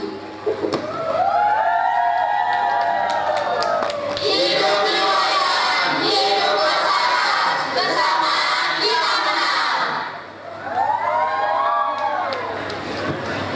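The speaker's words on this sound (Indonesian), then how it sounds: "Suasana makin riuh dengan tepuk tangan dan sorak-sorai" A crowd at a school stage performance erupts into loud cheering, shouting and clapping that swells in the middle and dies down, with voices talking and calling out before and after the peak.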